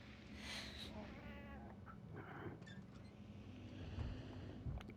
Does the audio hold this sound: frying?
no